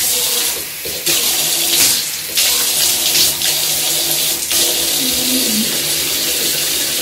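Tap water runs steadily into a sink while someone splashes it onto their face, a loud continuous gush with brief shifts and splashes as hands move through the stream, close by and without talking.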